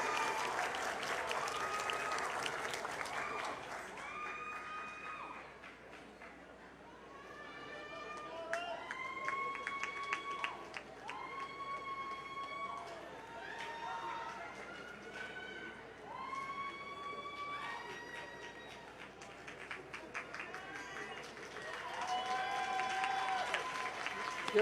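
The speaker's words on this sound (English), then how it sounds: "Give them a round of applause." Sustained audience applause for graduates at a university graduation ceremony, steady and moderately loud throughout, with faint tonal chirps and whistles rising over the clapping.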